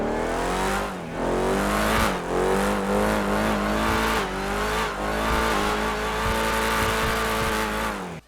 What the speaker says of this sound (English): let me show you how this car sounds stock